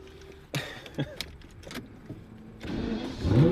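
A Lamborghini starts with a key in the ignition: several faint clicks and jangles, then the engine cranks and catches, rising to a loud, close roar at the end.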